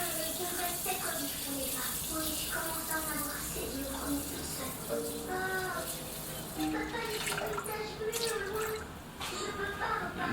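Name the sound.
pouring water into a Thermomix bowl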